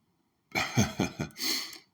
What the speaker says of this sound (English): excuse me, my sniffles.